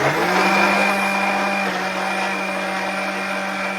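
A blender runs steadily, grinding Thai green curry paste ingredients such as lemongrass, seeds, ginger-like root and white pepper, with a loud, continuous motor whine that holds a constant pitch from start to finish.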